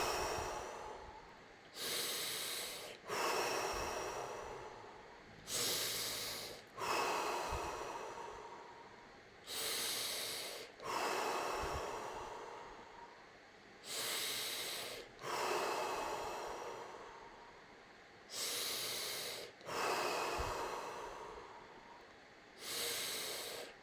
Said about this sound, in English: 30 deep breath in.